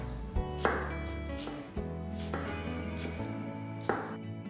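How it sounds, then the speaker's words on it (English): A knife finely chops peeled vegetables on a board, a few thumping cuts set against steady background music. "just chop them up"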